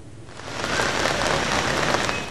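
A rain shower falls over the streets of Dhaka, a steady dense wash of drops on surfaces that swells slightly and holds without any voices.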